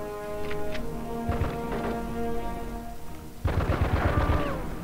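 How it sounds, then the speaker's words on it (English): Gunfire in a shootout from the video game Die Hard Vendetta, sounding as a run of sharp shots over steady game background noise that swells into a louder, denser burst of fire near the end. "with my cover blown, I just go in guns blazing."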